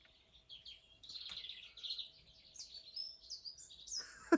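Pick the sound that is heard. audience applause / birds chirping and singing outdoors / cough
birds chirping and singing outdoors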